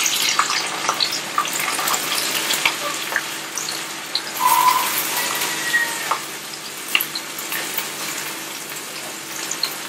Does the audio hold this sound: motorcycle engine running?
no